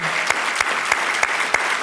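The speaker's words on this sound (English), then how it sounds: "Please give another round of applause to him" Steady, close applause from an audience at an Urban League annual dinner, continuous clapping with a few sharper claps standing out, no talk over it.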